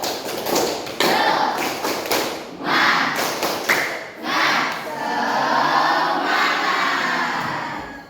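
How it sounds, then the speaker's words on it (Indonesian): Audience at a teacher training session claps in unison in a rhythmic pattern of spirit claps, loud and close, with brief shouts mixed in. "Coba tepuk semangatnya bagaimana?"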